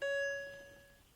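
A dash cam in a Mercedes-Benz W221 plays its startup chime, a single clear electronic ding that rings out near and fades over about a second in a quiet car cabin.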